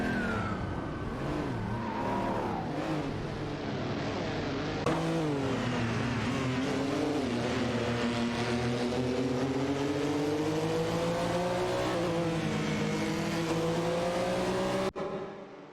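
Race cars in an AI racing event, engines droning at high revs with slowly rising and falling pitch, loud and continuous with no voices.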